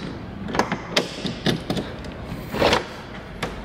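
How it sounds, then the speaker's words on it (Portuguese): Trunk of a Mustang convertible being opened, giving a series of several short mechanical clunks and latch clicks at close range, with a louder rattle near the end and no speech. "Vamos dar uma olhada no porta-malas."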